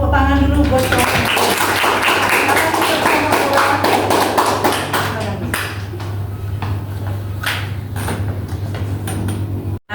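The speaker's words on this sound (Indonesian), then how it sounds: "Kasih tepuk tangan dulu buat kelompok." Schoolchildren clap for a student group in a classroom during a science lesson, a burst of scattered, uneven claps that thins into sporadic taps, with voices mixed in.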